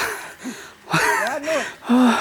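A man pants heavily while climbing a steep path up to a hillside cave temple, letting out a few loud, breathy gasps with voiced, strained tones, close by.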